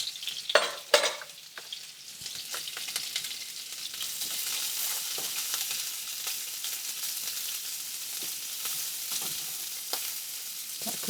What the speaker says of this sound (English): I'm gonna set it aside and cook the vegetables now. Okay, it's heating up. I'm gonna toss in the